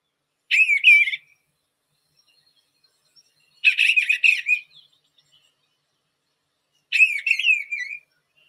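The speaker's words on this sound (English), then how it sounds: "Here's the Eastern Bluebird." An Eastern Bluebird sings three bright, whistled phrases, each about half a second, separated by short silences; a soft warbling song heard clearly without other sounds.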